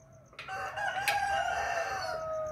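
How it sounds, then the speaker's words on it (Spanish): Roosters crowing at dawn in the countryside, one long clear cock-a-doodle-doo carrying over quiet rural background, fairly close and loud, with no talking. "en un hermoso amanecer junto a los cánticos de los gallos."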